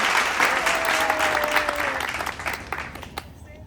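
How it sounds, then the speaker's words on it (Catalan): A small group gives a burst of applause, dense clapping close by that stays strong and then thins out toward the end, with a voice briefly heard over it. "Aplaudiu, aviam."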